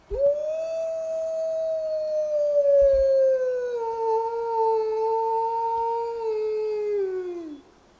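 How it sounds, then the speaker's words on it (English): A single long, clear howl rises, holds a steady pitch with gentle wavering, then slides downward and fades, close and strong with nothing else around it. "the wolf's haunting howl is spellbinding"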